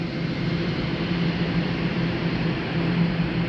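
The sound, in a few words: humming of many fans in a beet freezing plant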